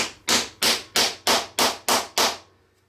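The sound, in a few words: hammering a T-nut into a workbench arm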